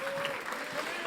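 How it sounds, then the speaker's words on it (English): A conference audience at the Cosmic Summit applauds a speaker, a soft, brief patter of clapping heard faintly at a distance, with a thin tonal whine running through it. "So a huge round of applause for Dr."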